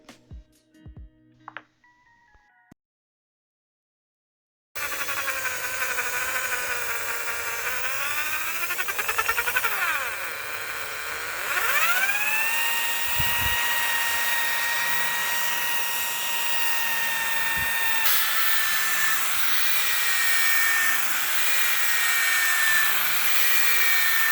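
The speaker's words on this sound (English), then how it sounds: "you need a drill with a proper bit" After a brief pause, a power drill removes rust from a 100-year-old fireplace, running steadily for nearly twenty seconds, its whine rising and shifting as it grinds.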